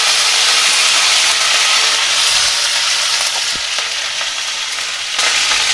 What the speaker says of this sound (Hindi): करी पत्ता डाल देंगे,